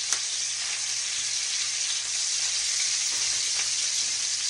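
Broccoli hits a hot pan and sizzles: a dense, even hiss that holds steady throughout, close and fairly loud, with no talking.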